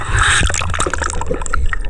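Underwater sounds while diving in a river for tilapia: close, muffled sloshing and gurgling of water with bubbly bursts and soft knocks, short and fairly loud with no talking.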